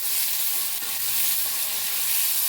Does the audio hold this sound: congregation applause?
no